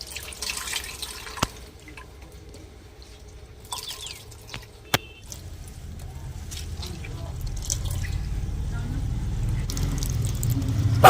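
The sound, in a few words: water dripping from squeezed radish leaves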